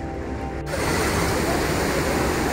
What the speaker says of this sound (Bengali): এখানে এখন জল ছেড়েছে, কি পরিমাণে জল বেরাচ্ছে। যদিও সব গেটগুলো খুলেনি, এই একটা গেট খুলেছে, তাতেই দেখুন জলের স্রোতটা কেমন।